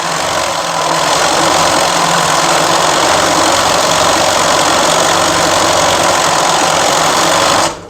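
An embroidery machine runs steadily at full speed, a loud continuous mechanical whir and rapid needle chatter lasting several seconds before cutting off abruptly at the end.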